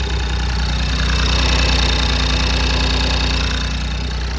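BMW i8 with a B38 engine idling after new ignition coils are installed, a steady loud low hum and vibration that holds continuously without speech.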